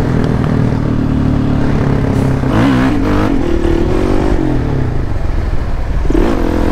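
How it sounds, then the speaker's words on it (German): A motorcycle engine idling and revving nearby, a loud steady rumble with a couple of swelling rises in pitch, alongside clattering and scraping noises. "Das Bike lassen wir laufen, sonst springst du gleich wieder nicht an."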